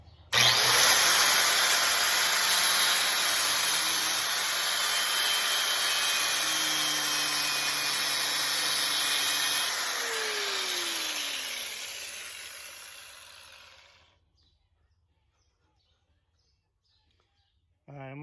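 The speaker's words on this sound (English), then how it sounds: "use the grinder again, very carefully so I don't cut the axle shaft. I'm gonna pierce this inner race." An angle grinder screams steadily as it cuts into the inner bearing race on the rear differential axle of a 1966 Mustang 7.25-inch rear end. The loud, continuous grinding lasts about fourteen seconds, then winds down and stops.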